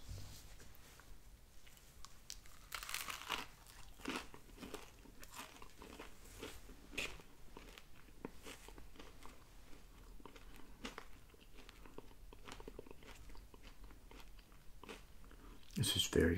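Someone bites into a peppered Hardee's steak biscuit with quiet, close crunches and chewing that repeat through the whole stretch, with soft mouth sounds between bites.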